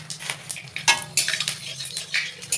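Whole panch phoron dropped into hot oil in a pan for a sour-sweet chalta pickle: close bursts of crackling spatter mixed with metallic clinks of a spoon against the pan.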